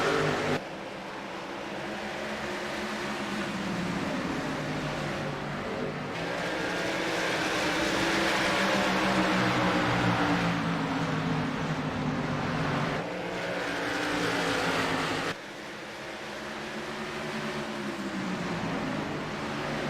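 Stock cars circle an oval short track under green-flag racing, a loud continuous engine roar that swells and fades as the pack passes, with sharp shifts in pitch as cars go by near the microphone.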